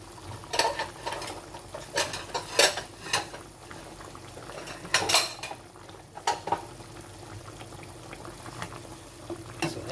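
Cooked pork adobo is spooned from a pot into a serving bowl, with repeated clinks and scrapes of a metal utensil against cookware over a low bubbling simmer.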